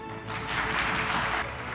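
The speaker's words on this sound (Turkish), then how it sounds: "Alkışlar hiç bitmesin lütfen" An audience claps at the Türkiye Kristal Küre awards ceremony in 2021, a dense, steady burst of applause that swells and then eases slightly over a couple of seconds.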